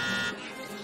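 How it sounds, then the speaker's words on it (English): An alarm buzzes in a children's TV show, a steady electronic tone that is loudest for the first third of a second and then drops to a fainter continuous drone, with a little speech-like sound mixed in. "Why is the alarm going off?"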